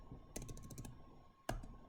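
Rapid keystrokes on a computer keyboard, a quick burst of clicks followed by a pause and then a single sharper press of the tab key, close and fairly quiet.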